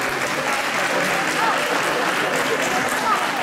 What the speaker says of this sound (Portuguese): da qual eu vos peço uma grande salva de palmas